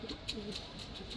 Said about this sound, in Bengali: 16টা কবুতর আসছে।